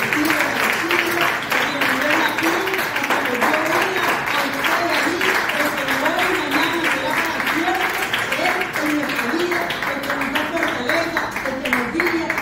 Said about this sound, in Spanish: Demos aplausos y ofrendas.